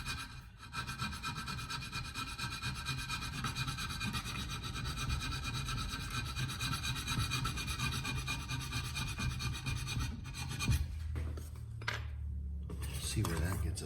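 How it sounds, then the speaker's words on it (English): Steady hand filing rasps continuously on the replacement metal tongue of an antique jaw harp, a close, even scraping stroke after stroke that pauses briefly near the end before resuming. "We're going to continue the filing."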